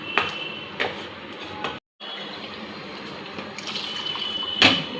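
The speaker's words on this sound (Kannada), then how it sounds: "ಸ್ವಲ್ಪ ನೀರು ಹಾಕಬೇಕು." Water poured from a tap or jug into a cooking pan on a home stove during a kids' cooking session, a steady filling splash with brief gaps and a sharper clatter near the end.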